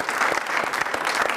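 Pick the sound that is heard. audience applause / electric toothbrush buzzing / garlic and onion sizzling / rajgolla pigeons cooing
audience applause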